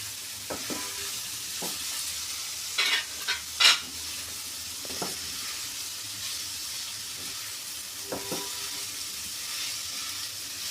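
Bottle gourd peel fries in a pan with salt and a bay leaf, a steady close sizzle broken by several sharp scraping stirs and clinks, louder bursts clustering early and again near the end, with no talking.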